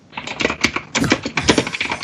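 Rapid, crisp clacking from a mechanical keyboard, a close and loud run of keystrokes in irregular bursts, with no voices over it.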